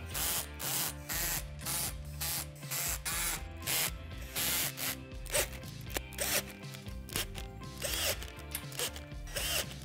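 Assembly hardware is tightened on a Lifetime 54-inch climbing dome, model 90939, giving a rapid run of ratcheting clicks and zipping bursts in quick repeated strokes, close and fairly loud, with no talking.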